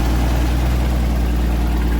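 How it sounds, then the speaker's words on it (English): A Mustang fitted with a tractor engine idles loudly and steadily close by, giving off a deep, even, chugging drone with no variation and no voices. "Tell me that doesn't sound like a frickin' John Deere."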